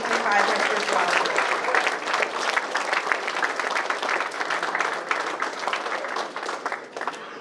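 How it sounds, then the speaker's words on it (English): Audience applause at a breakfast honoring the class of 2025 Hesburgh Scholars: steady, dense clapping from a full room that carries on for several seconds and thins slightly toward the end. "Let's give a round of applause for our class of 2025 Hesburgh Scholars."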